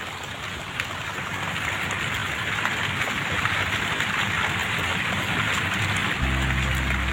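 Light drizzle falls on a corn field, making a steady, even patter and hiss with no breaks or voices.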